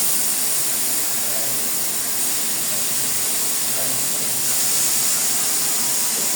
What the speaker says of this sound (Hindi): थोड़ा सा फ्राई करूँगी बिस्मिल्लाह करके